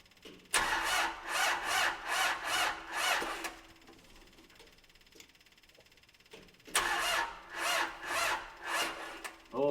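A 1995 Gehl 5625sx skid steer engine cranks over in two loud bursts of rhythmic, chugging starter turns, separated by a quieter pause, without catching.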